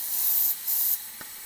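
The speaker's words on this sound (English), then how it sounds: "Spray some brake clean in there." Aerosol brake cleaner hissing as it is sprayed into a cylinder of a 400 Chevy small-block with leaking Airflow Research heads during a leak-down test, a steady close spray broken by a brief pause, then a fainter hiss.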